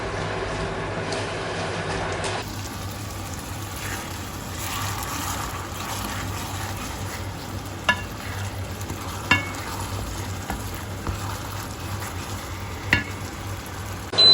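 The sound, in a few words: stirring and frying Pad Thai with lime juice in pan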